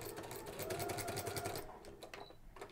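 A sewing machine fitted with a walking foot stitches faux leather in a steady, close whirring run of rapid needle beats that stops about halfway through, leaving quieter handling sounds.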